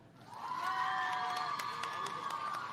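A crowd of school supporters from Hampton School cheers and applauds at an outdoor housing handover ceremony in St Elizabeth, a loud burst of shouting and clapping that swells and holds steady.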